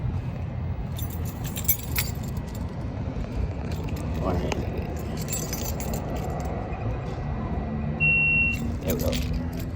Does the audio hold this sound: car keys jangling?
yes